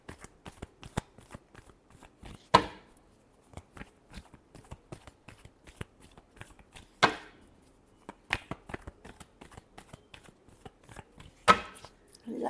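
Tarot cards shuffled by hand in a quiet room, a series of sharp riffling snaps and soft slaps with a few louder bursts, close and alone.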